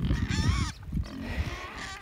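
Pigs on a small family farm raised for household consumption, kept in a wire-mesh pen, grunt and oink close by in a steady run, with a brief lull partway through.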